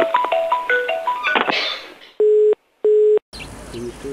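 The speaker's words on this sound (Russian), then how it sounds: "Извините, второй телефон." A second mobile phone rings: a chirpy melodic ringtone is followed by two loud, sustained electronic tones separated by a short silence, then fainter background sound.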